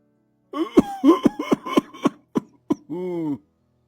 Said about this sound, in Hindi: आपकी तो खांसी रुकने का नाम ही नहीं ले रही है।